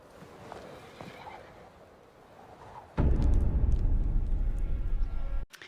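Horses neigh in a couple of short whinnies, then a sudden loud burst of hooves and movement clatters close by for a few seconds before cutting off.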